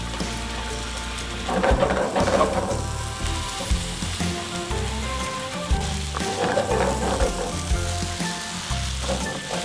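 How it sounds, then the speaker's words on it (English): Tuna and other ingredients for a tomato pasta fry in a pan with a loud, steady sizzle, while rhythmic stirring and scraping in the pan surge and fade throughout. "We mix well all together a few minutes."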